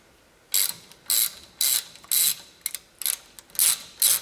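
A ratchet wrench clicks in short, loud bursts while loosening Allen bolts on the front ball joint of a 2004 Polaris Ranger 6x6, with about eight quick stroke bursts separated by brief pauses, close up and without talk.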